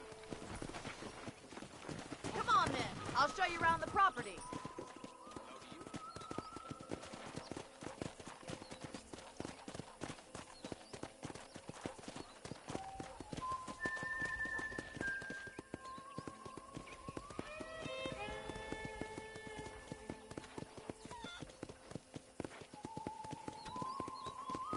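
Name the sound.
horse hooves clip-clop, from video game Red Dead Redemption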